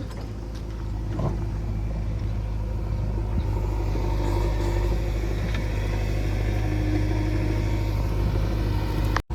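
A Powertrac tractor engine runs steadily and close by, a continuous low rumble that holds for the whole stretch before cutting off abruptly at the end.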